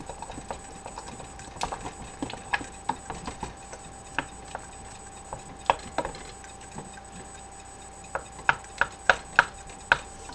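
A chicken noodle casserole mixture is stirred in a dish, giving scattered clicks and knocks of the utensil that bunch into a quicker run of taps near the end, with no talking.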